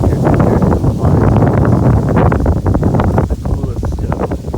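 Strong gusting wind buffets the microphone beside the water where seagulls and Canada geese gather, a loud continuous roar with rustling bursts throughout.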